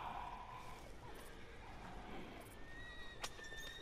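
A video game horse whinnies over a steady outdoor ambience, with a few sharp clicks and a faint high tone near the end.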